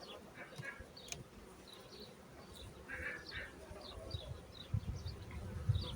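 Honeybees buzzing at a clean, healthy hive in spring, a soft steady hum close by, with individual bees droning past and faint outdoor background.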